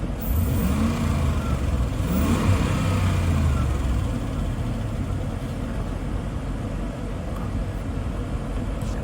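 A damaged 5.7 Hemi Jeep Grand Cherokee engine rumbles loudly and revs up and back down early on, then settles into a steady low idle with no talking.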